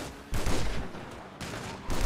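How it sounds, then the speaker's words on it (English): Gunfire in GTA 5 during a police shootout: two loud, dense bursts of rapid shots, each about a second long, separated by a short lull. "Getting shot at."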